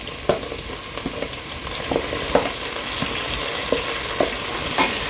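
Onions frying in a very hot pan for macaroni, a constant sizzle broken by irregular clinks and scrapes of stirring, close and fairly loud.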